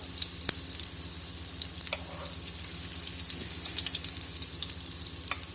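A potato sandwich sizzles in a pan, a steady close frying crackle with occasional stirring scrapes and pops running throughout, with no talk.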